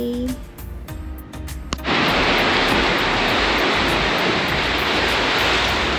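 Storm-driven waves and strong wind on the sea at Samaesan after heavy rain, a loud, steady broadband roar that begins abruptly after a quieter, clattering opening and then holds constant.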